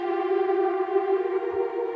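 A Strymon NightSky time-warped reverb pedal produces a sustained, choir-like tuned voice texture, a steady shimmering chord of layered harmonics held loud and unbroken throughout.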